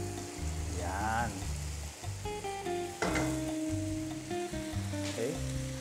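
Pork and mushrooms simmering in a pan for Pork Marsala: a soft, continuous close sizzle and bubbling, with someone speaking over it now and then.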